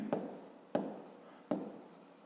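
A pen writes by hand on paper in three short, separate scratchy strokes, quiet and close, spaced evenly apart while a maths exercise is worked out.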